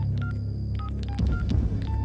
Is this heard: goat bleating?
no